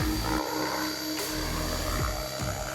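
A Kasama Dune 600 RC helicopter runs with a newly fitted gear, giving a loud, steady whine and rotor drone that holds through the whole stretch with no talk.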